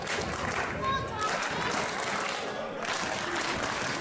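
A wrestling match crowd claps steadily, a continuous loud wash of applause and crowd noise with no gaps.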